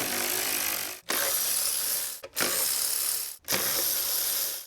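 A ratchet clicks rapidly in close, loud bursts while backing out 10mm bolts from the upper intake manifold of a 2010-2013 Hyundai Santa Fe or Kia Sorento 3.5 engine, with four runs separated by short pauses.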